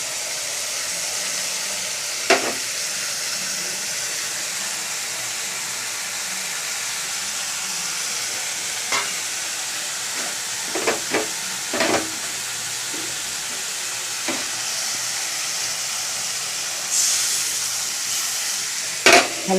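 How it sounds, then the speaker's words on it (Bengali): Coriander, cumin, Kashmiri and red chilli, turmeric, ginger and garlic sauté in a pan with a soft continuous sizzle, broken by occasional sharp scrapes and taps of a stirring spoon, with no one speaking. "ভালো করে কষিয়ে নিই।"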